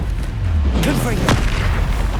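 A Confringo fire spell blasting in the Hogwarts Legacy game, a deep booming burst layered with whooshing effects, close and loud, with a voice shouting over it.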